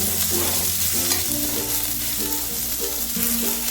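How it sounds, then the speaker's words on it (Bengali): Onions frying in a pan for prawn curry and stirred with a utensil, giving a loud continuous sizzle with repeated scraping strokes and a faint tonal hum beneath. "পেঁয়াজটা দিয়েও আমি একটু কয়েক সেকেন্ড নাড়াচাড়া করবো"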